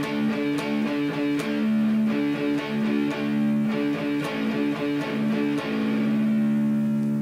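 A distorted electric guitar plays a riff, repeating in a steady rhythm, with bright picked attacks over sustained low notes, loud and close with no talking.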